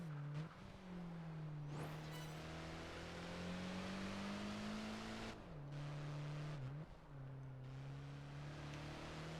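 A speed car's engine howls in Project Gotham Racing 4 during a cone sprint, a strong, close drone rising steadily in pitch, then dipping sharply at each gear change or lift-off before climbing again.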